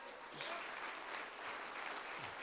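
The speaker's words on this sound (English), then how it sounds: "Let's give the Lord a hand clap of praise." A church congregation applauding in praise to God, a continuous wash of many hands clapping, steady and fairly distant, faint in level with no single claps standing out.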